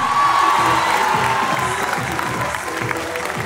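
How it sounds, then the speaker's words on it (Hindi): A large seminar audience in Delhi claps loudly and cheers as an educator is welcomed at a UPSC exam-prep event, dense applause with whoops and shouts running throughout. "जोरदार तालियों के साथ सुदर्शन गुजर सर"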